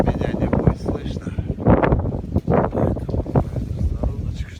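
Strong outdoor wind buffeting a microphone where Armenian tumbler pigeons are being flown, loud irregular gusty rumbles and thumps throughout, with a person talking.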